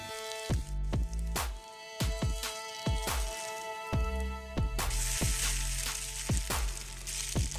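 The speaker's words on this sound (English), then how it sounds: "when the bun goes in, you can pan fry it for around 3 minutes" A burger bun pan frying sizzles steadily, punctuated by a series of sharp clinks and taps as it is pressed and moved in the pan, with the sizzle swelling louder toward the end.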